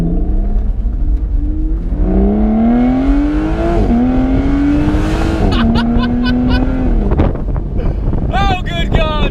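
A convertible Aston Martin Vanquish S Volante engine revs up through rising pitches with the roof off, dropping briefly at each gear change, loud and close with heavy wind rushing over the microphone.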